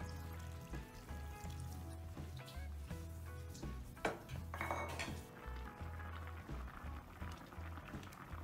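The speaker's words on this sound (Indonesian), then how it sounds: "Tambahkan sedikit air." Water poured into a cooking pot of Sarawak-style asam pedas with patin fish and terung dayak, a short splashing pour with light pot clatter in the middle, over a steady musical background.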